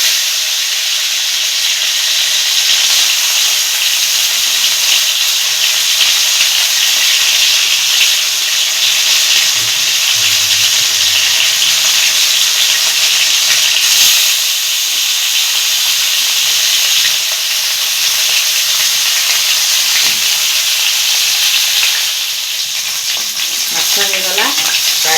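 Fish frying in hot oil in an Odia village kitchen while cooking machha ambila, a steady loud sizzle and hiss throughout, with faint voices briefly underneath.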